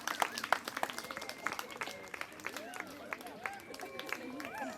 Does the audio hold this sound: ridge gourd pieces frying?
no